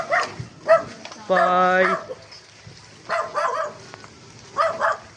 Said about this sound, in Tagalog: May aso ata.